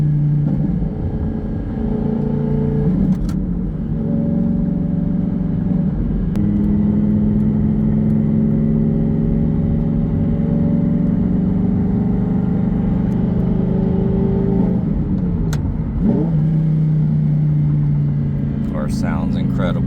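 A 2012 Lamborghini Gallardo Super Trofeo Stradale with a gated manual conversion drives under load, its engine droning loudly and climbing through the revs, with brief breaks at gear shifts.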